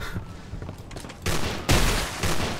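Video game gunfire in a horror shooter, loud bursts of rapid shots that swell into heavier booming volleys near the end, with no talk over it.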